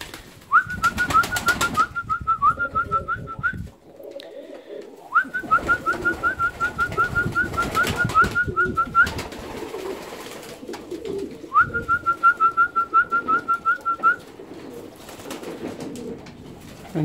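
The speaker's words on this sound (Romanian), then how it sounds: "O să chemăm porumbei." Pigeons coo in three long rhythmic bursts of repeated calls, close and clear, as they are called to their lunchtime food among a collection of fancy ornamental pigeons.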